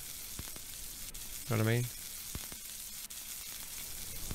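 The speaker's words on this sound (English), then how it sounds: "There's something about the sizzling sound of food that I really like" Food sizzles faintly in a cooking video game as a low, steady hiss with a few soft clicks, while a voice talks over it.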